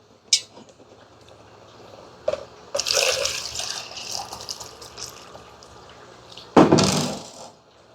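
Water is poured into a 32-ounce plastic deli cup, heard as a few short splashes followed by a longer gushing fill and a final strong burst of running water, with light clinks in between.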